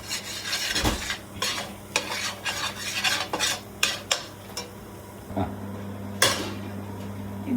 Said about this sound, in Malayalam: ഇനി മുളക് നല്ലവണ്ണം അങ്ങോട്ട് മൂത്ത് സെറ്റാകട്ടെ